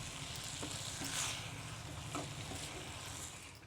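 Fish head frying in a pan with tomato, onion, ginger, garlic and chili paste, giving a steady close sizzle with occasional soft stirring scrapes and no talk.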